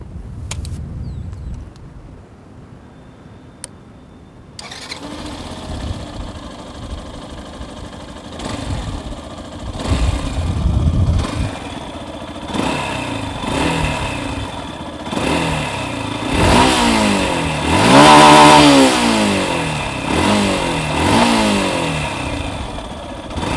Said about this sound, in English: Now let's hear how this motorcycle sounds.